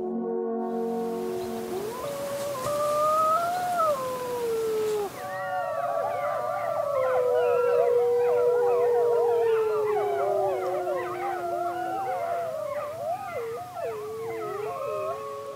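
Wolves in the Swiss wilds howl to mark their territory: one long rising and falling howl first, then several voices join in a layered, wavering chorus that carries on loud and clear without any speech.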